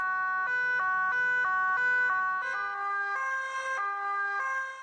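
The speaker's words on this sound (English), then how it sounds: "background noise officer with his silly little siren" A wailing American police siren cycles through repeated two-tone and warbling patterns, loud and close, with steady traffic rumble underneath.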